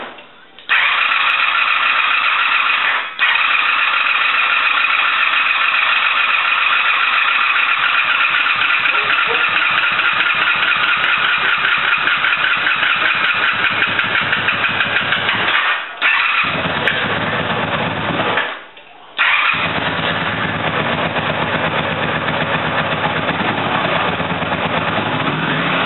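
Honda Magna motorcycle engine starting and running while leaking fuel, a loud steady close idle buzz with a couple of brief dips and cutouts, no talking.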